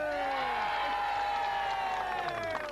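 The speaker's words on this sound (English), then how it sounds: "Give him a round of applause." Applause and cheering from an audience at a turf-fire themed show, a steady crowd wash with whoops running under a speaking voice throughout.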